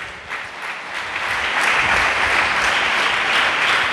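A church congregation applauding, dense steady clapping from many hands that swells after the first second and holds strong and close to the end, with no talking over it.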